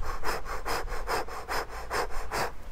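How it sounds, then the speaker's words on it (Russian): Rapid breath-of-fire breathing through rounded lips during a meditation exercise: about nine quick, even, rhythmic puffs of breath, close and clear, with no talking. "мы будем делать дыхание огня через рот, скругленные губы. Быстрое, ритмичное, легкое дыхание ртом"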